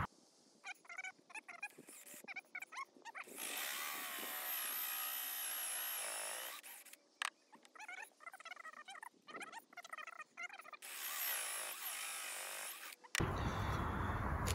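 A saw cuts through a piece of old pallet wood for a balancing wine bottle holder, in two long, loud stretches of rasping cutting with shorter bursts and pauses between them.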